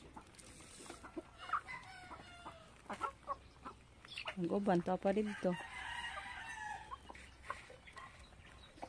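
Backyard chickens cluck and a rooster crows at mid-distance, the calls bunched in the middle of the stretch, while a person speaks briefly nearby.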